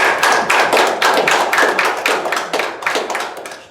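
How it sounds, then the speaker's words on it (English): Citizens at an Indian Trails election candidates forum applaud, and individual sharp claps stand out within a lively burst of clapping from a moderately sized crowd that stays loud and then tapers slightly. "give them a round of applause"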